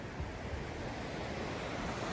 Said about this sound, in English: then there's these rapids here and a little waterfall over there